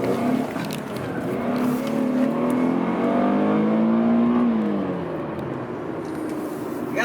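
An Infiniti G37x launches hard from a standstill, its engine climbing steadily in pitch as it accelerates, loud and close from inside the car, then easing off near the end.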